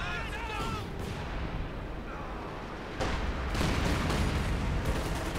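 A light artillery barrage in Company of Heroes 2 rumbles as dense, overlapping booms and crackling impacts, growing heavier partway through, with a commentator talking over the battle din.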